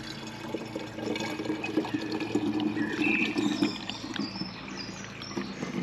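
Infused elderflower wine with sugar is poured through a sieve into a vessel, a steady splashing trickle of liquid running for several seconds, close and moderately loud, with no voices.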